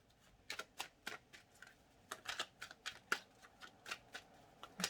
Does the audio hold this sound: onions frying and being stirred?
no